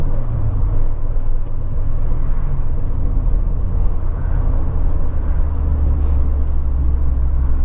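Steady low rumbling wind buffeting through an open manual sunroof inside a moving 1983 VW Golf GTI, a continuous heavy roar with road noise, no voices.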